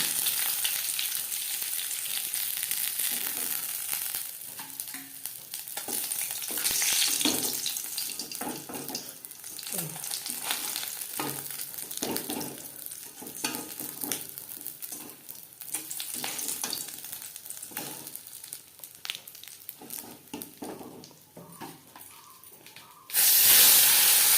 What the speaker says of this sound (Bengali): তিনবারে আমি মাছ ভেজে নিয়েছি।